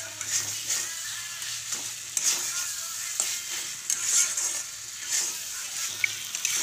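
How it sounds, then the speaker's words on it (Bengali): Fried potatoes being stirred with spices in a pan as part of a soybean chunk and egg curry, giving a steady close sizzle with repeated scraping stirs of the spoon roughly every second. "আলুটা ভালোভাবে কষিয়ে নেব মশলার সঙ্গে।"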